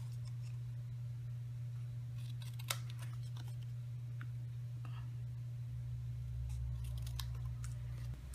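Scissors snipping the ends of a paper strip during a card-making craft session, a few crisp cuts at close range over a steady low electrical hum, with faint handling rustles in between.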